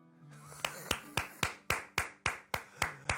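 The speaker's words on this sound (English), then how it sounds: "This clap is for you." Ten crisp hand claps land in a steady, even rhythm, each one sharp and close, ringing out alone in a quiet room.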